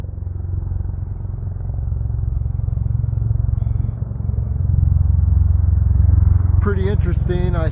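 A distant helicopter over a desert mountain trail in Red Rock Canyon, Nevada, gives a steady low rumble that swells slightly and holds throughout, with a voice talking near the end.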